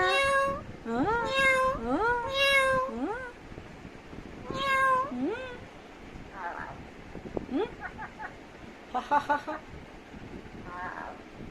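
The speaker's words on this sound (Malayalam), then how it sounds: "എവിടെ പൂച്ച" A cat meows loudly several times in a row, rising whines up close, followed by softer chirps and a person talking quietly.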